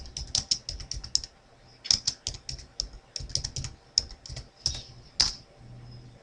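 Computer keys clack in quick irregular bursts of sharp, close clicks with short pauses between runs, heard alone without talk.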